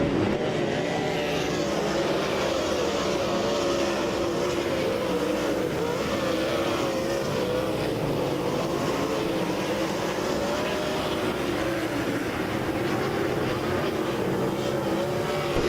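Dirt track race cars roaring around Lake Ozark Speedway, a dense, continuous engine drone from the pack with rising and falling revs, loud and steady throughout.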